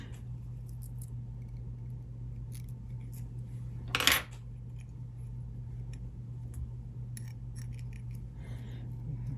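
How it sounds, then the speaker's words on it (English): A brief, crisp snip of scissors trimming fly-tying fibers for a bead head pheasant tail nymph, a single sharp cut standing out against a steady low hum. "Then we can take our scissors, trim those out."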